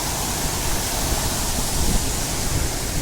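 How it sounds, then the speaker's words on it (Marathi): Strong water flow at Padharwadi dam, a dense continuous roar of rushing water filling the sound close up, steady and loud without pauses or voices. "दुसरा पाण्याचा प्रवाह किती जास्त आहे"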